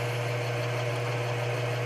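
A grinding wheel grinds a protrusion off a cuticle pliers blade with a steady mechanical hum and constant drone, running continuously, no talking.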